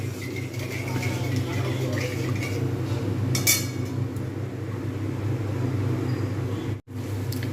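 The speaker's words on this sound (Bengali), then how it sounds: "এবারে সুন্দরভাবে কষতে থাকবো মশলাটা" Spice paste for a hing and capsicum aloo dum being stir-fried in a pan gives a steady low sizzle with a few faint spatula clinks against the pan.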